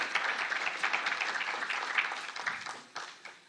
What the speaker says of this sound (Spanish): Por favor, fuertes palmas.